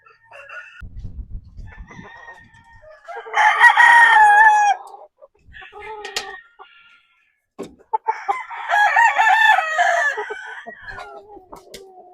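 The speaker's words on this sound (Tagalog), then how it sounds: "Ilalabas na natin itong mga manok na ito" Breeding roosters, including a Golden Boy cross, crow loudly in two long calls, with softer clucking and scattered bird sounds between them, fairly close.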